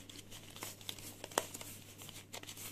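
Quiet, close crinkling and tearing of a paper surprise packet as it is opened, irregular rustles with one sharp crackle midway, no voices.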